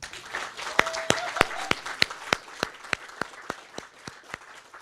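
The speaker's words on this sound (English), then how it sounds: "I ask you all join me in a round of applause and thanks" Audience applause at the opening of an Indigenous community and healing garden, a crowd clapping steadily under one prominent close, rhythmic clapper, with faint voices and a brief tone in the background.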